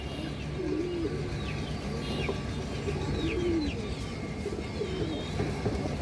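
A cream-eyed high flyer pigeon gives soft, repeated low coos at close range, with a few faint chirps from other birds over a quiet background.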